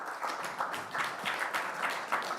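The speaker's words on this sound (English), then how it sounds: "I guess we're clapping for that." Scattered, light applause from a student government senate audience in a meeting room after a unanimous vote, a few soft claps rising and falling, fairly faint and brief.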